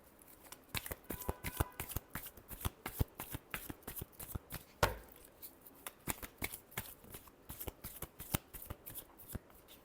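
Tarot cards are shuffled by hand in rapid riffling bursts, a crisp close rhythmic flutter of card edges repeating steadily throughout with little else heard.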